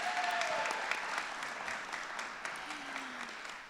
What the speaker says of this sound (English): Can we give them a round of applause real quick?